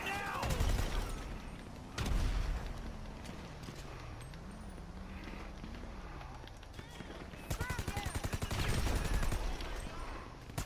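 Gunfire in GTA Online, bursts of rapid shots at the start and again near the end over game noise, with a vehicle droning between them and people talking throughout.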